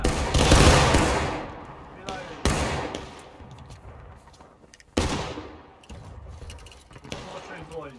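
Three loud musket volleys from a line of infantry in the War of Rights video game, sharp broadband cracks about 2.5 seconds apart, each trailing off into rolling echo while men call out in the background.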